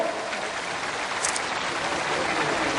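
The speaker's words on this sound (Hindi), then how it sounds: "सभी जोरदार एक बार प्रदेश के मुखिया के लिए ताली बजाएं।" Broad, steady applause from a large crowd at a 2014 Lok Sabha election rally in Kondagaon, Bastar, greeting the state chief minister, holding as a dense continuous wash for about three seconds without a break.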